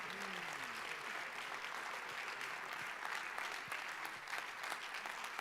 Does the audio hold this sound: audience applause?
yes